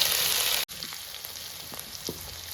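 Asafoetida and chopped ginger hit hot oil with a loud burst of sizzling that cuts off abruptly, followed by a quieter, crackling simmer with scattered pops.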